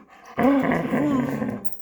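A dog growls at another dog in a close, loud, continuous rumbling snarl lasting over a second, starting abruptly after a brief quiet moment.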